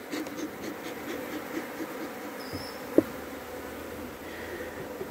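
Honey bees swarm around an open hive as frames are lifted and smoke is applied. A steady, faint buzzing hum fills the whole stretch, with one sharp click partway through and no voices.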